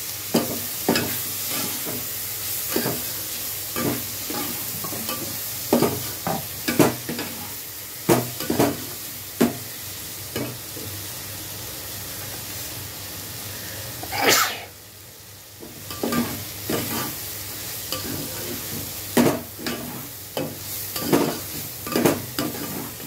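Dalia and masoor dal sizzle in hot oil tempered with cumin in a pan, with repeated scraping stirs and clatters over a steady frying hiss; a brief cough or sneeze-like burst breaks in midway.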